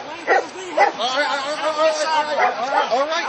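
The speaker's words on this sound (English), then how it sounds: "Oh, there are the dogs." Police German Shepherds bark and yip on a city street during the aftermath of the Pittsburgh G20 summit. Several short barks come through over crowd chatter and talking voices nearby.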